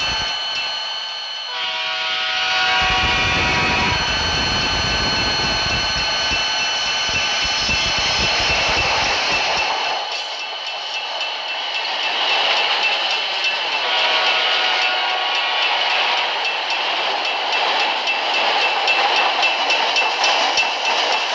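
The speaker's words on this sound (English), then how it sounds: "The train horn sound like this." A heavy freight train's horn blasts in snowy winter conditions, one long, loud, sustained tone with steady harmonics, over rumbling rail noise and grinding wheels that carry on after the horn stops.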